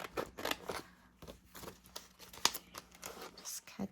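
Scissors cut out a paper Christmas rose picture in a series of quiet, crisp snips and paper rustles, close and irregular, with soft talk in between.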